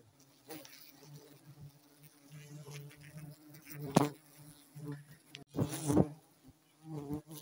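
Honey bees swarm around a large, thick wild honeycomb nest in Pelalawan, making a steady near buzz broken by a few louder passes close by, with no talking.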